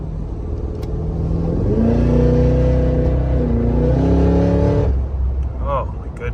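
A 2024 Cadillac Escalade V with a 700hp engine revs and accelerates, its exhaust roaring loud and close in a rising, sustained growl that cuts off near the end, with someone talking over it.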